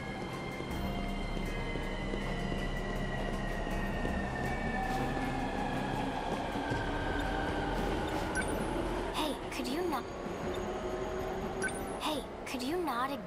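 A train passing in the game 13 Sentinels: Aegis Rim, a continuous rumbling roar with a steady high whine that sweeps slowly downward, loud and sustained, with some brief sharp clanks near the end.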